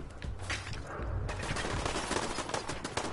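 Rapid turret gunfire in the game Fallout 4, a dense burst of crackling shots with a continuous busy rattle, close and loud.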